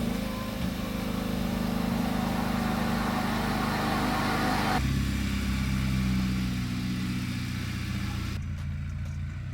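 A Hyundai Veloster Turbo fitted with a new coilover kit drives on the road, its engine a steady, loud drone with road and cabin rumble throughout and a shift in tone partway through.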